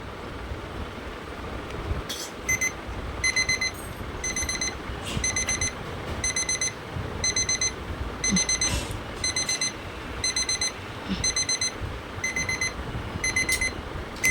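A small alarm clock rings with rapid high electronic beeps in repeating bursts, loud and close, continuing steadily throughout.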